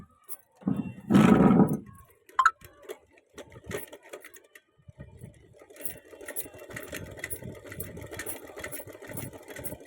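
A home sewing machine runs in a steady mechanical whir through most of the stretch, after a brief louder burst near the start, fairly close and moderately loud.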